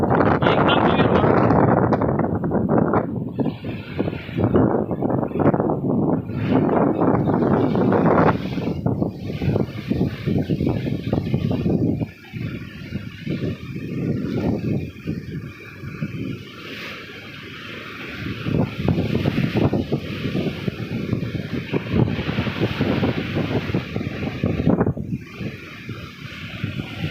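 Sea water churns and splashes around a boat near Ross Island, a loud continuous rushing wash with heavy wind buffeting the microphone throughout and no clear talking.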